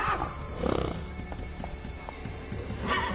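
Roach, Geralt's horse in The Witcher 3: Wild Hunt, gives a loud whinny while hooves clip-clop at a gallop, with another neigh near the end amid game ambience.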